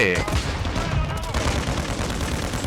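Rapid gunfire from a KRISS Vector in Call of Duty: Modern Warfare II multiplayer, a dense burst of quick shots, loudest at the start and fading into scattered cracks, with game noise mixed in.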